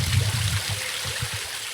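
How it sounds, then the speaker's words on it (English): Water flushes and gurgles on a canal, a steady close rush of flow with soft low churning pulses and no voices. "you've got the lovely flushing of the water"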